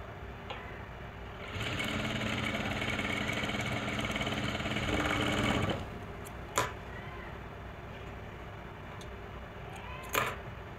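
A sewing machine stitches a dart in a lehenga blouse, its motor whirring in one steady burst of a few seconds, then quiet room tone broken by a couple of sharp clicks, with no talk.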